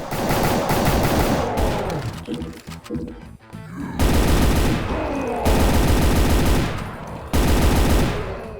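Rapid, loud gunfire from the Brutal Doom mod of the classic Doom shooter, with dense overlapping blasts, a brief lull near the middle, then further heavy bursts and crashing impacts.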